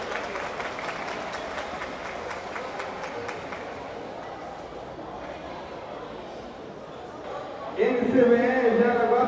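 An audience at a 2017 futsal opening tournament in Amazonas claps steadily throughout, a spread-out patter of applause in an indoor venue. An announcer speaks over it, and the crowd noise swells near the end.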